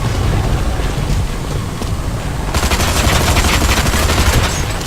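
A gun fires in the video game Blackfire, dense rapid gunfire that is loud and continuous, growing harsher and brighter about halfway through, amid constant roaring background noise.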